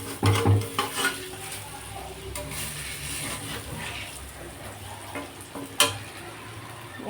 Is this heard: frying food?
yes